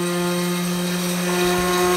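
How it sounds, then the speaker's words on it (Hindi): An electric grinder runs continuously, grinding fried brown onions for beef korma, giving a steady loud motor whine with a strong hum and no pauses or talk. "इसको हम ग्राइंड कर लेंगे जो ब्राउन प्याज को"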